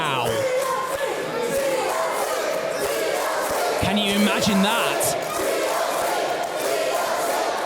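Wrestling crowd at a Fight Factory show cheering and chanting in a loud, steady roar, with someone talking over it and brief sharp shouts partway through.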